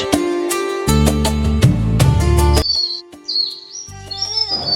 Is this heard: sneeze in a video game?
no